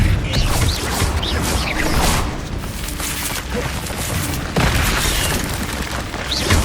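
Confringo fire spell blasts in Hogwarts Legacy during a duel, repeated booming explosions and crashes in a dense, loud barrage, with a voice faintly present underneath.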